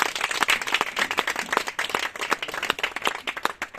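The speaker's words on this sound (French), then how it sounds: "Applaudissez encore." An audience at a sewing and tailoring diploma ceremony claps enthusiastically in dense, lively applause that carries steadily throughout at close range.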